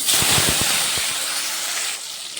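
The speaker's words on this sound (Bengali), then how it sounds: "টমেটোটা ভাজা হয়ে গেছে" Chopped tomato hissing in hot oil with bay leaves and whole cumin, a bright steady sizzle opening with a few sharp pops and crackles before settling into an even spitting hiss.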